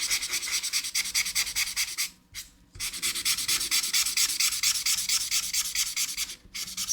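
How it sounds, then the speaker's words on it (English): Chisel tip of an alcohol marker coloring on paper: close, rhythmic back-and-forth rubbing strokes in quick succession, with two brief pauses between bursts. "I might even use the chisel tip for this."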